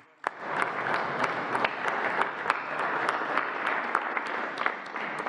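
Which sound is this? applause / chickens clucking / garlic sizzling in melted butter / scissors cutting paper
applause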